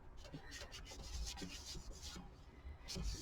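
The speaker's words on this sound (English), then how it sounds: "You can rub and rub and rub." A tissue rubs over a cast piece of eco resin in soft, continuous scratchy strokes, quiet and close with no talking.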